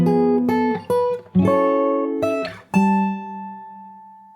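The closing phrase of the Animal Crossing New Horizons theme on fingerstyle guitar: about six plucked notes and dyads in an uneven melodic rhythm, close and clear, ending on a sustained note that decays. No one talks.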